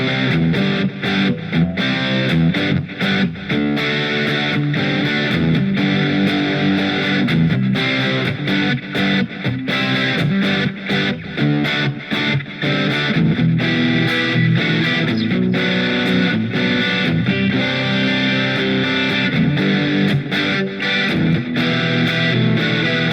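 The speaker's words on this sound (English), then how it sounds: "here's my 70s Marshall. This is going to be a little bit more crunchy. And then I've got just an echo on it" Electric guitar played through a Fender Mustang LT25 amp on a 70s Marshall crunch setting with echo, in a Les Paul style: loud, steady distorted strumming and riffs filling the whole stretch, with no voices.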